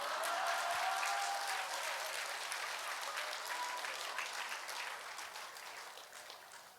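An audience at a church healing service claps, a soft, distant patter that is strongest at the start and gradually fades away, with no talking.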